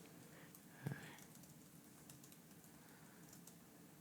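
Faint computer keyboard typing in a quiet room: soft, scattered keystrokes over low background hiss, with one slightly louder clack near the start.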